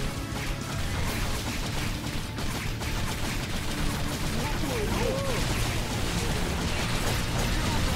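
Shots fired at enemies in Orcs Must Die!, a dense and continuous clatter of mechanical firing and pops mixed with game noise, steady and loud, while someone talks over it.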